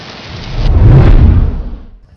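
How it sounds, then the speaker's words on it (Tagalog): A sudden rain shower with thunder: a loud, low rumble swells and fades over about two seconds while rain hisses steadily on a surface. "Ang itikinig ko, tapos biglang umuulan."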